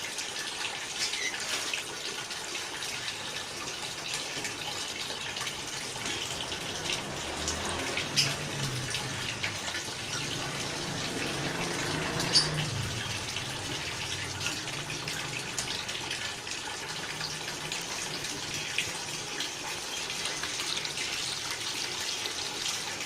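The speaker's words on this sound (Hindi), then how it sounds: "अब इसके अंदर दूसरा पानी भरते हैं हम जल्दी अभी।" Water pours steadily into a vessel during preparation of a herbal distillate, a continuous gushing and splashing wash that stays fairly even throughout.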